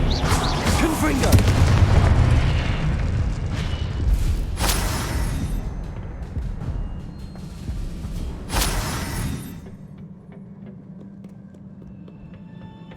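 The Confringo explosion spell goes off in the video game Hogwarts Legacy, two sharp, loud blasts a few seconds apart over a rumbling background of game sound.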